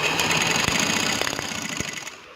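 A sewing machine stitches trouser fabric in a fast, steady mechanical whirr with rhythmic ticking, close and fairly loud, slowing and stopping just before the end.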